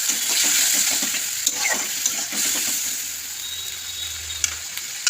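Spice paste with a little water hisses and sizzles as it fries in a pan for a fish curry, with stirring scrapes and clicks over a steady close crackle.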